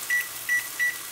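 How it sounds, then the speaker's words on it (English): Kitchen timer beeping three times in an even rhythm, sharp and clear, with a faint steady hum underneath. "is that a timer? Timer."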